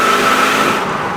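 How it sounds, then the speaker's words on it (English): A Porsche 928 V8 engine revs up steadily, close and loud, with a continuous smooth drone and no speech over it. "I can tell once it's off idle, the engine is smooth. Goes into second gear good now."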